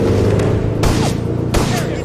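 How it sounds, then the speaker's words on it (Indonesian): Grenade explosions in an action film: two loud, sharp blasts roughly a second apart cut through a dense, constant background of noise and music, each followed by a brief rushing decay. "granat meledak."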